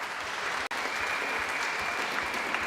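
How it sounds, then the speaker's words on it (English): A crowd applauds the champion at the Springfield Scottish Squash Open 2023 finals presentation, sustained even clapping with a brief dropout partway through. "Another massive round of applause, please, for your champion,"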